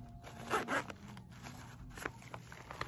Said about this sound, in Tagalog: Yung zipper niya, dalawa.